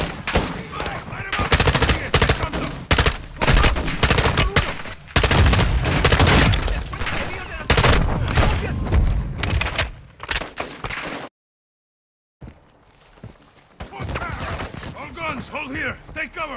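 Heavy automatic gunfire in the video game Call of Duty: Modern Warfare II, loud close bursts and rattling volleys mixed with shouted voices, then a sudden drop to silence before quieter speech resumes.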